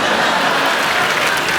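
Studio audience applause at a Hindi comedy talk show taping, a dense, steady wash of clapping filling the whole moment at close, loud level with no pause.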